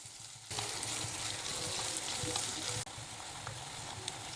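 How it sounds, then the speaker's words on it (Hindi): Sliced onions fry over high flame in hot oil in a kadai, a dense steady sizzle that jumps louder after a brief quiet start and dips for an instant near the end, with no voices. "फ्लेम को हाई पे रखे और प्याज को अच्छी तरीके से गोल्डन कलर आने तक फ्राई कर ले।"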